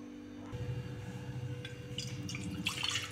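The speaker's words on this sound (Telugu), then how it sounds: "ఇప్పుడు వేడి నీళ్ళు వేసి" Hot water is poured into a cooking pot for a besan sambar. After a brief quiet start, a steady, close, low splashing pour begins and carries on, with a few brighter splashes near the end.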